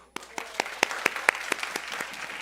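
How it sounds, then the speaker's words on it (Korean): Scattered, light applause from a small group at a church high school service, a handful of distinct claps rising and fading over a couple of seconds. "박수"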